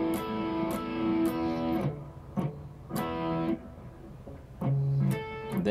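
Electric guitar plays a riff in a clear, close run of ringing chords, each strummed bar sustained, then cut, with short pauses between phrases.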